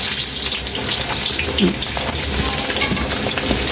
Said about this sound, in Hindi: इसको हल्का सा हमने फ्राई करना, हल्का सा, जो इसका थोड़ा हल्का पानी ख़त्म हो जाए।